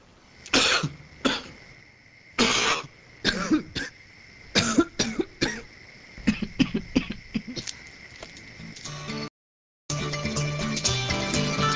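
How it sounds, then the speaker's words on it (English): A series of dry, raspy coughs repeats in bursts, close and fairly loud, followed by a brief silence and then a different noisy sound. "Dry cough, weak cough, sore throat"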